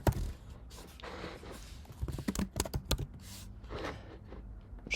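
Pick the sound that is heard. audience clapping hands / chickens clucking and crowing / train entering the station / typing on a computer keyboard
typing on a computer keyboard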